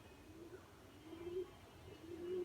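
Domestic pigeons in their loft give soft, low cooing in several drawn-out phrases, steady and fairly close with a faint background hum.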